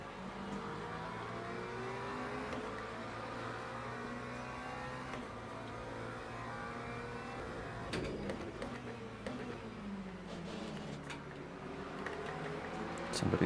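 A McLaren race car engine in Le Mans Ultimate drones steadily with rising and falling revs through gear changes, close and continuous, ending in a harder rev.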